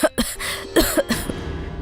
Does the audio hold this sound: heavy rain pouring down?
no